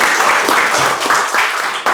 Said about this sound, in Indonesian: Kita aplaus dulu, ya.